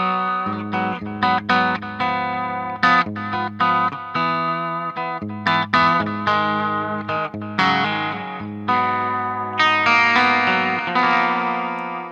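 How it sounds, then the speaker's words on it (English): Electric guitar through an amp with a clean rock tone, chords and single notes ringing out one after another, played alone. "And you can get sort of a rock clean sound."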